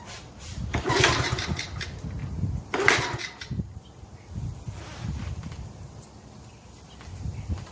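A 1971 Honda CT70 motorcycle that sat for 31 years, fitted with a new carburetor and a makeshift throttle cable, is cranked to start, with two strong bursts of engine sputter amid rumbling mechanical noise.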